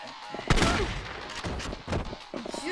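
Shotgun fire in a Yakuza 3 Remastered fight, with a sharp blast up close followed by several more booming shots and scuffling.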